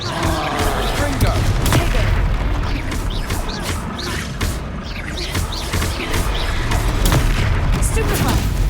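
Blasts of the Confringo fire spell in a Hogwarts video game crackle and boom repeatedly amid a dense, noisy battle din, with sharp bursts scattered through a steady roar.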